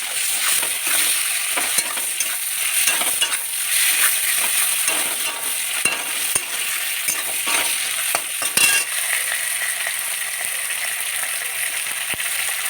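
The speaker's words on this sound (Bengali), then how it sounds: "পরে পেঁয়াজগুলো ভাজা হয়ে গেছে। এখন তো তেল দিয়ে ভেজে নেবো" Onions fry in oil and are stirred in a pan, a loud, close sizzle broken by repeated scraping strokes and small spoon clinks throughout.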